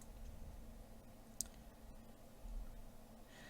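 A single sharp mouse click lands on a buy now button, one brief faint tick against a quiet room hum.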